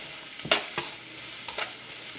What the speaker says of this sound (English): onions and carrots should be in the wok or your pan